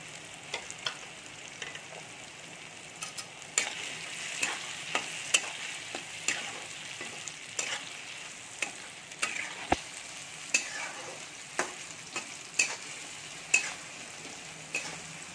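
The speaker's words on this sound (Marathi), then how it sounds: "आता आपण लसूण टाकून घेऊया." Garlic fries in a pan with a steady hiss, broken by frequent sharp scrapes and clicks of a spoon stirring against the metal, for a Kolhapuri-style vegetable curry.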